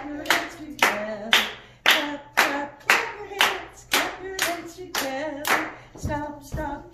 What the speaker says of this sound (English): Clap, clap, clap your hands. Clap your hands together.